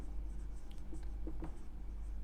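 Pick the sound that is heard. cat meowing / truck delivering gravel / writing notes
writing notes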